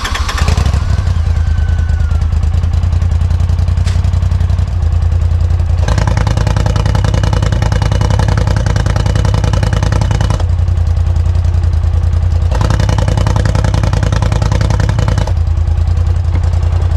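A Polaris RZR Pro XP side-by-side engine fitted with a titanium 3-inch E-Valve exhaust, running at idle with a loud, steady, throbbing rumble. It rises to several sustained higher-revving stretches and settles back between them, with no talking.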